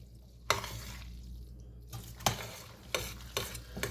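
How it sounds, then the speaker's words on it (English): Casserole ingredients are mixed in a pan with melting butter, a quiet low sizzle punctuated by several sharp scrapes and clanks of a utensil against the pan. "I'm going to mix this around so everything is combined."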